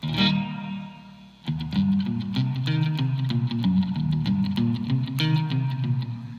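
Electric guitar played in chords and single notes through a Blackstar Core ID 40 amp on its spring reverb setting, with distorted, effect-laden tones ringing out steadily and decaying washes between strums, loud and alone.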